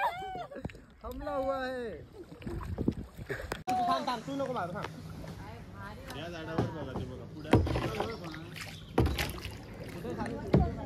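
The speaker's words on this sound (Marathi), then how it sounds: "आता आम्ही बोटीत आहे. मी एका हाताने चालवतोय." A boat being rowed by hand with one oar on water in Kokan, with soft paddle splashes and knocks under near, continuous chatter between people aboard.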